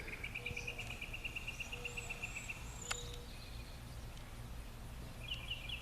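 Chirping calls from birds sound over a constant rasp of insects, with one sharp high call standing out midway.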